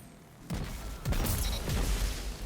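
A hand cannon fires and an Arc melee strike follows in Destiny, heard as three separate booming thumps about half a second apart, each with a crackling tail, with no talking.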